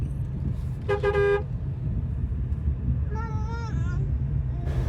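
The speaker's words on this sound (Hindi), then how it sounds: "इसको हॉर्न मारता हूँ" A short car horn toot sounds over steady traffic rumble, followed a couple of seconds later by a wavering, higher-pitched horn or whine.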